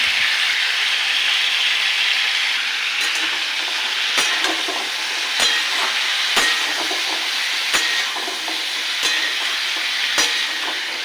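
Drumstick stalks fry with salt and turmeric in a loud, constant hiss, with a spatula striking and scraping the pan at regular intervals close by.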